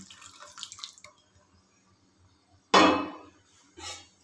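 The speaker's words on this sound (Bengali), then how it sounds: "গরম জলটা আমি দিয়ে দিলাম" Hot water poured into a pot of vegetable dal lands as a sudden loud splashing gush, followed by a shorter second pour after a few faint clinks and a quiet stretch.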